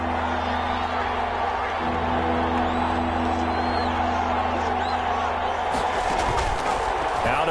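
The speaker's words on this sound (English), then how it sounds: "the crowd getting into it as we come up on a big third down" Roaring football stadium crowd at an NFL game building toward a big third down, a dense, loud, continuous wall of cheering and noise with a swell near the end.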